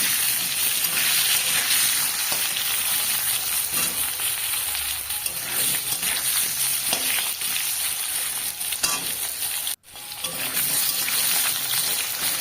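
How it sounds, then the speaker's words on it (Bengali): Thinly sliced long strips of potato fry in oil in a pan, a dense, continuous loud sizzle and crackle heard up close, with occasional stirring scrapes and a brief dip near the end. "বেশ আলুগুলো একটু লালচে লালচে করে ভেজে নেব"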